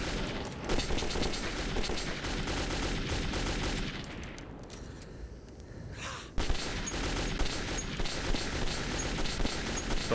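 Sustained automatic gunfire from a machine gun in the video game Metro 2033, loud and continuous across the clip with a brief lull in the middle before the bursts resume.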